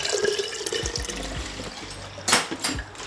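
Coolant pours into the overflow tank of a drift car, a close, gurgling liquid stream with a few louder splashy surges near the end and no talk.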